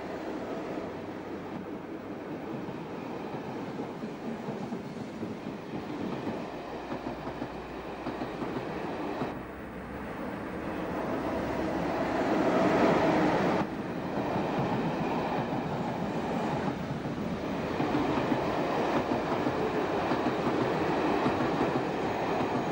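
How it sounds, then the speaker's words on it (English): A Docklands Light Railway train rolls into Beckton with a steady rumbling roar that swells midway, rails clattering softly as it approaches and slows, no talking. "The official first train arrives at Beckton"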